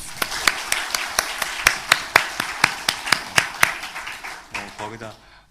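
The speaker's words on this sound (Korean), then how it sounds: "우리 격려의 박수 한번 합시다" A church congregation claps during a worship service, crisp sharp claps in a fairly regular rhythm, some scattered clapping around them, fading into a short spoken phrase at the end.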